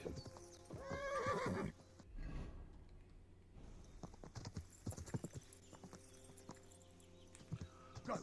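A video game horse lets out a loud, drawn-out neigh, then hooves clip-clop steadily and close by over a low ambient bed, with a few scattered thuds.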